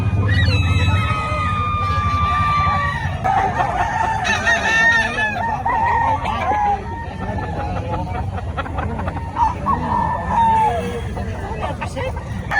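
A Golden Sweater bloodline rooster crows and clucks at a busy poultry market in Bocaue, Bulacan, over crowd chatter and passing traffic, with people talking nearby.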